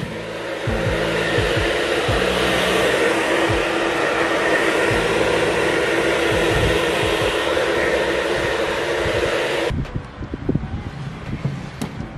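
A loud, continuous whoosh of a hair dryer blowing close by for about ten seconds, then it cuts off, leaving light handling noises.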